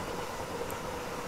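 A train passes along a railway track with a steady, broad rumble and rush, moderately loud throughout and without voices.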